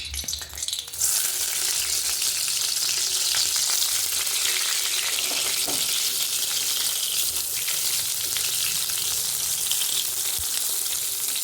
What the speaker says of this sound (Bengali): এবার বেগুনটা ভাজি।